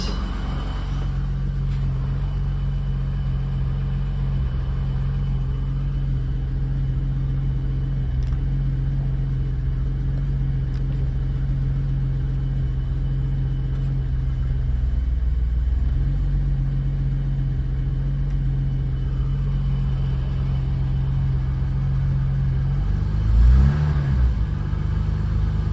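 A 1987 BMW 535is with about 270,000 miles, unstarted for two to three days, settles into a steady cold idle with a low even engine hum close by, then gives a short rev near the end.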